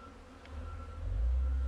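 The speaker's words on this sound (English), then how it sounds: "Notice how the bees aren't getting all excited?" Honeybees hum in a low, steady drone during a nuc transfer into a hive, calm and close, gradually swelling a little louder, with no voices.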